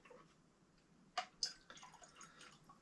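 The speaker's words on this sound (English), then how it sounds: "Little drop of water." A small drop of water splashes into a glass of whisky in a backyard bar, giving a few quiet, sharp drips and trickles over a faint, near-silent background.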